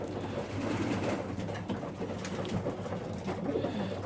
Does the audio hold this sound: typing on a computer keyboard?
no